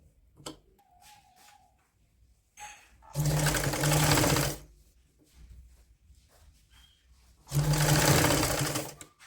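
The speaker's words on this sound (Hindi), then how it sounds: "अब हम दूसरी साइड से सिलाई कर लेते हैं।" A sewing machine stitches a child's woolen winter night suit in two loud, steady bursts of rapid whirring, separated by quieter pauses with faint handling sounds.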